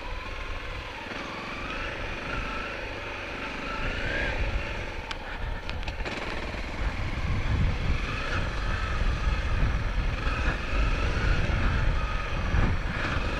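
Honda CRF250L dual-sport motorcycle engine running on a dirt track, a steady close drone that grows louder and rougher in its second half as the rider opens the throttle, with no talk.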